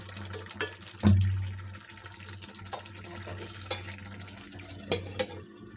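A cauliflower and bean curry with fish cooks over heat in a pot, a soft simmer and sizzle broken by a loud scraping stir near the start and a few lighter clinks and scrapes afterward.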